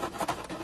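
A cat named Jonesy claws at a scratch pad, making a continuous close, dry rasping and rubbing with small rhythmic surges.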